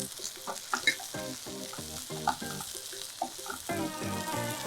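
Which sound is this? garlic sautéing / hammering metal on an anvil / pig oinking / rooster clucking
garlic sautéing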